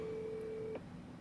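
An outgoing phone call ringing: a steady electronic ringback tone that cuts off partway, faint over background noise.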